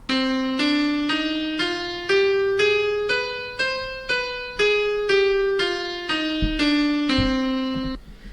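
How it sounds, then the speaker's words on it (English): A harmonic minor scale played note by note, about fourteen clear pitched tones rising and then falling in an even rhythm, each tone struck and sustained alone with a slight decay. "That's the signature sound of the harmonic minor scale."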